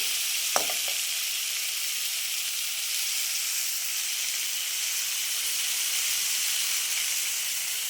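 Something sautéing in a pan, a steady loud hiss of frying with one brief clink near the start, close and continuous with no talking.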